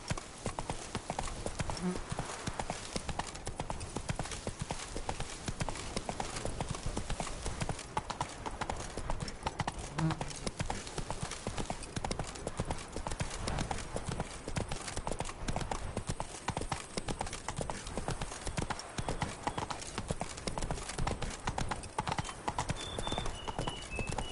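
Roach, the horse in The Witcher 3, gallops with a fast, steady clip-clop of hooves that runs without a break for the whole stretch. A faint voice surfaces now and then.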